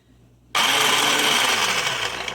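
An Ambiano electric mini food chopper chopping onions starts abruptly and runs at a steady, loud, high-pitched whirring buzz after a brief quiet moment.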